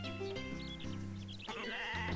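A sheep bleats in the farming game Harvest Moon: A Wonderful Life, a short wavering cry over steady looping game music.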